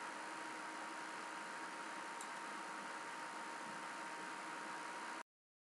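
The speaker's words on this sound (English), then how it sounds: "in our Volterra tractor with a plow" Tractor pulling a plow in Agricultural Simulator 2012, a steady, faint, hissy engine drone running evenly with no talk, then cutting off abruptly near the end.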